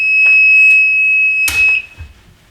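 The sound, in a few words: heat press timer alarm beeping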